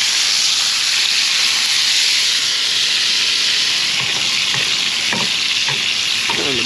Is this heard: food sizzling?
yes